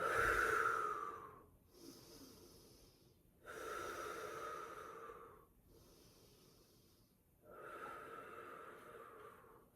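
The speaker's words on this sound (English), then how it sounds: "Full breaths here. Deep breathing." Slow, deep breathing in a yoga child's pose: about three long, airy breaths at a steady, unhurried rhythm, close and soft, with no talking.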